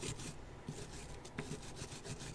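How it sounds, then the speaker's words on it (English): Screwdriver and wire brush scraping rust and corrosion off a brake caliper bracket on a 1999 Subaru Impreza 2.5RS, a close, rhythmic rasping rub in quick repeated strokes. "take a screwdriver and just scrape out any rust and corrosion that's in here, and you can finish it off with a wire brush"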